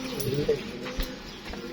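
A racing pigeon gives a short, low coo amid steady background noise, with faint knocks underneath.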